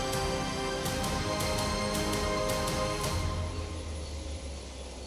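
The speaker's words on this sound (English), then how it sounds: "Boeing 727" Boeing 727 jet engines in a flight simulator: a loud, steady broadband roar with a deep low rumble and high whine, easing slightly toward the end, no voices.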